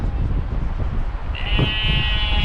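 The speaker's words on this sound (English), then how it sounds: "the sheep keep interrupting me" Sheep bleat in the Welsh countryside, a wavering call rising above steady headwind rumble and windy road noise in the second half.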